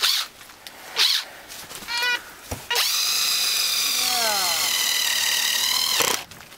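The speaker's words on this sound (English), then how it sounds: "Still ratcheting." A fire-damaged Makita impact driver revs up and ratchets in a loud, steady whine with a descending rattle, holding for about three seconds before cutting off, after brief bursts of earlier noise.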